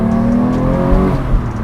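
A manual Porsche 911 GT3 engine revs hard as automatic rev matching blips the throttle, a loud, close, continuous mechanical roar with a rising then falling pitch.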